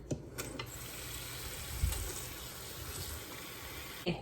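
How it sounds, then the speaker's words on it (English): Water running steadily into a container of apples for homemade cider, a continuous faucet-like flow with a few soft knocks at the start and end, close and moderately quiet. "Okay, now we're just gonna put water in it."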